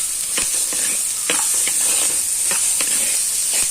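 Garlic and spices frying in oil for milagu kulambu, a bright continuous hiss of sizzling with repeated quick scraping strokes of a spoon stirring the pan, close and fairly loud with no voices.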